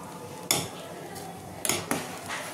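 Boiling pasta being stirred in a pot for an egg pasta dish. Three or four sharp clinks and scrapes of a utensil against the pot rise over a faint bubbling background.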